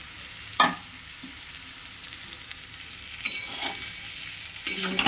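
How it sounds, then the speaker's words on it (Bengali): A spatula scrapes and stirs food around a hot pan, with a steady sizzle and a few louder clacks against the metal. "এরপরে ভাজা সবজিগুলো সব ঢেলে দেব।"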